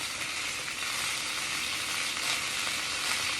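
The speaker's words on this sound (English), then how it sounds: "We're just trying to sear all sides of the shrimp." Shrimp sear in a very hot pan, producing a loud, dense, unbroken sizzle heard up close with no talking.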